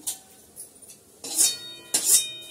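Metal pot and utensils clink and clatter on a kitchen stove as rice is set to cook, a few sharp bright knocks and scrapes close by in a quiet room.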